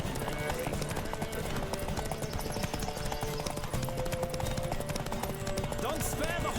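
Horse hooves clip-clop steadily throughout a horse race in The Witcher 3: Wild Hunt, fast rhythmic beats mixed under game music and voices.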